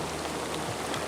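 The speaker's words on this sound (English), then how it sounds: "It's pouring down rain." Heavy, cold rain pours down near the North Fork river in gold country, a dense, even hiss of drops with no voices.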